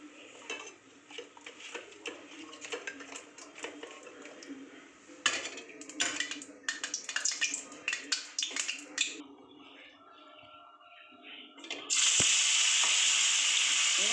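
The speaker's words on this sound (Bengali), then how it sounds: "আমি একটু গরম তেল দিয়ে দিলাম তাহলে কই মাছটা টান টান হবে" Koi fish coated in chili powder frying in hot oil: utensils clatter and scrape at first, then a loud, steady hissing sizzle takes over near the end. Faint talk may be present.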